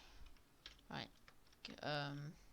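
Computer keyboard typing HTML code, a few quick close keystrokes spread out over a couple of seconds, with a short burst of voice near the end.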